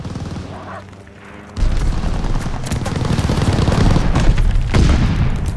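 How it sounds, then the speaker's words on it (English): Airstrike from allied forces in Call of Duty Vanguard: after a quieter lead-in, a sudden loud onset of dense, rumbling blasts and rapid gunfire rolls on without a break, with repeated booming impacts filling the rest of the stretch. "Allies pulled an airstrike"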